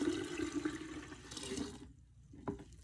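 Cooled sugar syrup for homemade kombucha is poured into a container, a steady liquid splash and trickle lasting about two seconds before it stops, followed by a faint clink.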